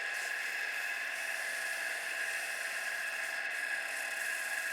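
Steady, even abrasive whir from a pen body being wet-sanded with 800 and 1200 grit abrasive and mineral oil on a spinning lathe, continuous and close throughout with no pauses or voices.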